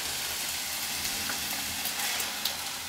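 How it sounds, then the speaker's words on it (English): Diced tomatoes go into a simmering lasagna sauce, giving a steady, close sizzling and bubbling hiss with faint stirring clicks throughout, no voices. "I'm going to get the diced tomatoes in there."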